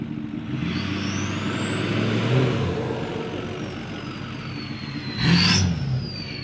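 A snowmobile engine running after a spark plug swap, its steady mid-pitched drone rising and falling as the revs shift, with a louder surge near the end; close and continuous with no talk.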